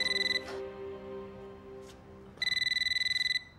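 A telephone rings indoors with a bright electronic trill, two bursts of rapid pulsing separated by a pause, loud and close with no talk over it.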